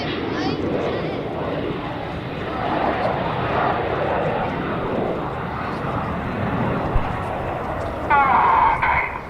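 Jet aircraft of the Red Arrows display team flying at an RAF airshow at Cosford, a steady broad roar sustained throughout under a commentator's voice, swelling slightly toward the end.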